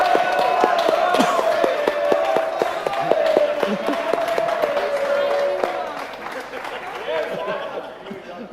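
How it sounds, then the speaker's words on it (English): A game show crowd claps and cheers for a contestant while a host talks loudly over the applause, which fades toward the end. "Give a round of applause for Steve from Murphy's"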